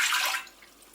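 Oat milk poured into an Instant Pot, a brief, faint liquid splash and hiss lasting under half a second before it fades, with no voices.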